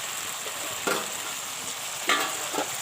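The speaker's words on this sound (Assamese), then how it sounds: "এতিয়া মই মাংসখিনি দি দিলোঁ তেলত" Meat frying in hot oil with onions gives a steady sizzle, broken a few times by brief scraping stirs, close up and with no talk.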